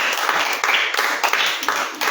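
Congregation at a church service clapping together in a quick, steady rhythm, a dense bright patter of hands that stays close and fairly loud for a couple of seconds.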